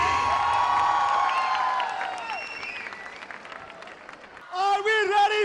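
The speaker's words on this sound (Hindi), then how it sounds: "तालियां उतनी बजे please with the music" An audience at an international India versus USA wrestling match at Talkatora Stadium breaks into sustained applause and cheering. It fades gradually over several seconds, then a voice cuts in loudly over the dying crowd noise.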